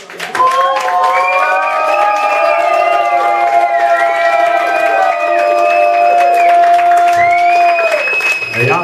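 A live audience claps and cheers loudly and without a break for about eight seconds, with whoops and shouts carrying over a tonal, musical background before the sound fades out.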